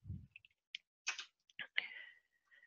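Someone types a variable name on a computer keyboard while working in Stata. Several separate, fairly quiet key clicks land in short irregular bursts, and a brief low thump sounds at the start.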